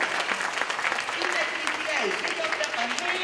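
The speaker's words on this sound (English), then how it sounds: "give yourself a hand clap" An audience claps at a transit town hall meeting, a dense, continuous patter of hands with a few voices and cheers rising over it.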